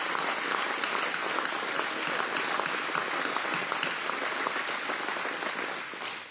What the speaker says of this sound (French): Donnons-lui une bonne main d'applaudissement.